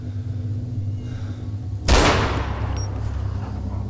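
A single loud, sharp gunshot in the survival game DayZ Epoch cracks out partway through, followed by a long rolling echo that fades over low background game ambience.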